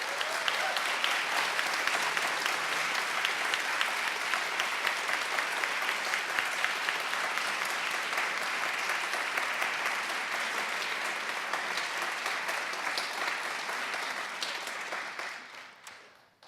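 Sustained audience applause in a hall, steady and dense for about fifteen seconds before tapering off at the end, with no talk over it.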